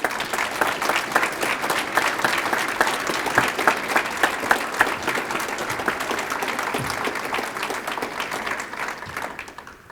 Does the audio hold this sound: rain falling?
no